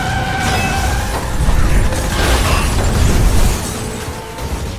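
Explosions and crashing debris boom through a racing video game, Split/Second, with rumbling blasts and mechanical clatter layered over a continuous loud engine roar.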